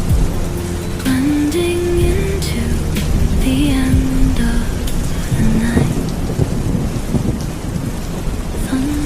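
Steady, loud rain pours down through a night thunderstorm, with rolling thunder rumbling repeatedly beneath the dense hiss of the downpour.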